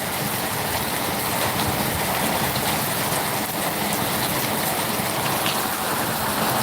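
Heavy rain with large raindrops falling near farmland, a dense continuous hiss and patter, steady and loud throughout with no voices.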